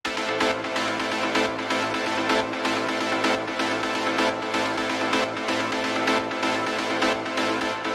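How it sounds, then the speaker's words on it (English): Repeated techno synth stabs in a textural style, punchy chord hits firing in a steady rhythmic pattern, loud and dense, continuing alone for several seconds with no voice. "first sound we've got here is a stab"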